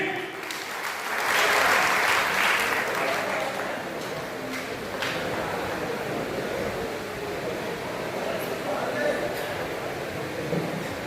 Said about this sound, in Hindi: एक बार आप ताली बजा के बुलाइए